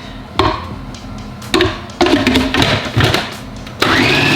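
Food processor chopping fresh parsley, motor whirring in short repeated bursts of pulsing with brief lulls between them, loud and close, no talking.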